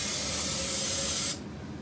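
A can spraying into the engine of a Jeep CJ2A before a test fire, one loud steady hiss held close to the mic and then cut off sharply.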